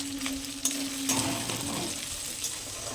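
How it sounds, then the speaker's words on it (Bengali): Chopped tomatoes sizzle steadily in a hot pan while a utensil scrapes and stirs through them, with a few light knocks against the pan. "টমেটো কুচিগুলো ভালো করে নেড়ে নেবো"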